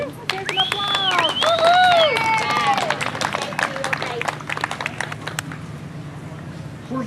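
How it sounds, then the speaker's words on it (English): Outdoor crowd applause at a Dutch oven cook-off award for best bread, scattered claps and cheering with a loud whistle-like whoop early on, tapering toward the end. "There's an applause."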